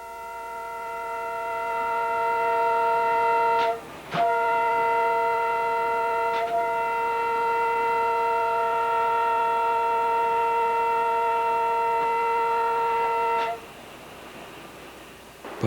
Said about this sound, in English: Watch how fast the train goes through this station.